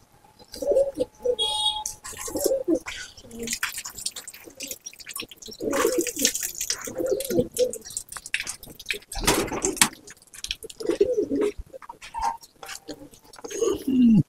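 Andha and Kalanka pigeons in a loft coo repeatedly in soft, throaty bursts, with light rustling, knocks and wing movement around them.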